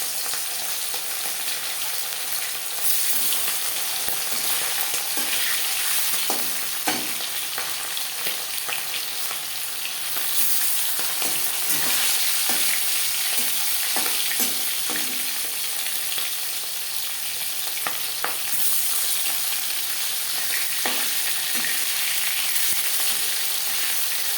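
Marinated chela fish sizzles steadily in four spoons of hot refined oil in a pan, a constant bright hiss with occasional soft stirring scrapes and spatters, no voices.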